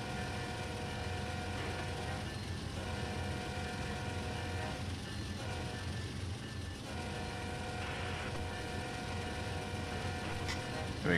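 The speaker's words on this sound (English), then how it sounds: "To honk my horn." A Norfolk Southern heavy coal train in Train Sim World 3 rumbles steadily for several seconds, its diesel drone and rolling wheels filling the cab view, with the horn sounding faintly and muffled from inside.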